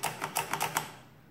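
Sundstrand adding machine being operated by hand, a quick run of five or six sharp mechanical clacks close by, ending in a short rattling decay with no voices.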